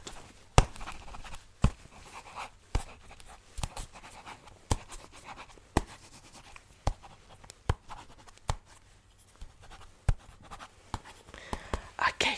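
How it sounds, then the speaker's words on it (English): Pen scratching on paper while notes are written by hand during a quiet cranial nerve exam roleplay, soft continuous strokes punctuated by sharp taps, close and intimate with faint whispering underneath. "So let me just write up and get a conclusion."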